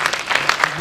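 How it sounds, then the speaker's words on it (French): Brief burst of clapping from an award ceremony crowd at the 2021 Piolet d'Or mountaineering awards, dense and fairly close, with a voice faintly underneath. "je vous demande de l'applaudir"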